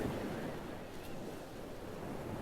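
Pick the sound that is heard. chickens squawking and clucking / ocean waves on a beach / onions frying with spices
ocean waves on a beach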